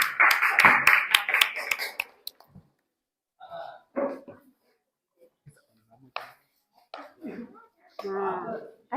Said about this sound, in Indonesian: Silakan, tepuk tangan untuk kelompok Niazi.